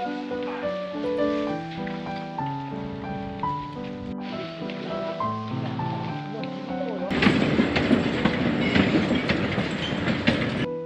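A small, bumpy Taipingshan forest-railway train running on narrow-gauge rails: a continuous rolling rumble with rhythmic clicking over the track, growing louder and rougher with rattling clatter midway.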